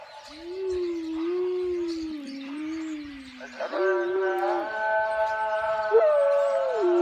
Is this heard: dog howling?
yes